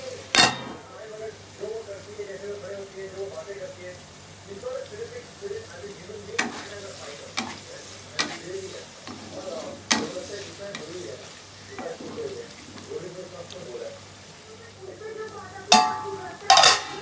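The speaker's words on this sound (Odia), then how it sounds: "ପିଆଜ କୁ ଆମେ ନାଲି ହେଲା ଯାଇକି ଭାଜିବା।" Onions fry in a pan for crab curry, a steady sizzle under repeated stirring with a few sharp metal clinks of a utensil against the pan.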